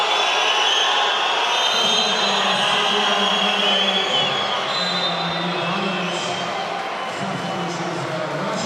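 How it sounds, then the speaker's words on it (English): A home crowd at a women's basketball game in a large arena roars in a sustained, dense wash of cheering that slowly eases, with a commentator's voice running over it. "And now listen to the reaction of the home crowd."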